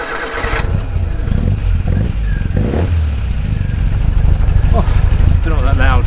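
An MGB GT engine runs loud and close just after starting, a steady rumbling idle with rough revving pulses throughout, and a voice speaks over it briefly.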